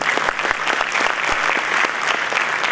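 An audience at a school winter band concert applauds steadily, dense clapping that holds at an even level throughout, fairly close.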